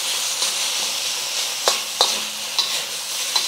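Pork belly sizzling in a pan with no added oil, a steady loud hiss and crackle close up, broken by a few sharp spatters and stirring knocks.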